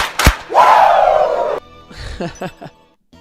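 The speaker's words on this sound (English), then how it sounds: "Hey, give me 2 claps and a Ric Flair." Soundboard effect played during a Shining Force 3 stream: a sharp clap, a long loud shouted Ric Flair-style cry, then a run of quick claps and short bursts fading out.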